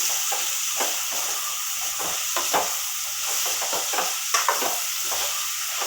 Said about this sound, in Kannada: ಸೊ ಅದು ನೀಟಾಗಿ ಫ್ರೈ ಮಾಡಬೇಕು ಈರುಳ್ಳಿನ